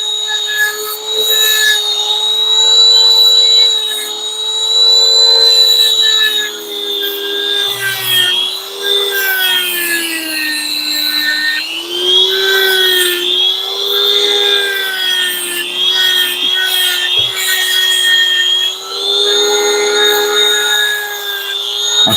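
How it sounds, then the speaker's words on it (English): A grinder whines loudly and steadily as custom knife scales are ground down against it. The pitch dips and rises as pressure on the piece changes, close and continuous, with no talking. "what I'm gonna do is just grind the scales down,"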